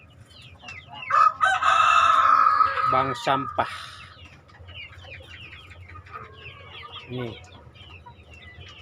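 Chickens in a partly rebuilt pen crow and cluck: a rooster lets out a long, loud, near crow, then scattered clucks and fowl calls carry on while someone talks throughout.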